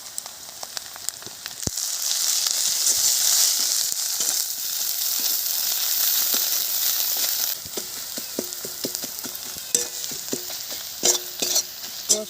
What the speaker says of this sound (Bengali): মশলা আমার হয়ে গেছে ভাজা।